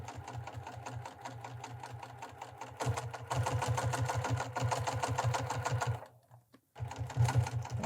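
Sewing machine hemming a pair of pants, running slowly along the folded edge and over thick seams; steady rapid stitching in close bursts, pausing briefly near the end before starting again, no voices.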